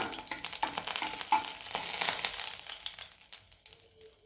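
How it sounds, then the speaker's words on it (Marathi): Whole cardamom pods roasting in a preheated pan as prep for a masala fish curry, giving close, steady dry sizzling and crackling with light stirring scrapes, louder in the middle and easing toward the end, no talking. "आपण कडे तापून घेतलेले त्याच्यामध्ये आपण वेलची भाजून घेणार आहोत"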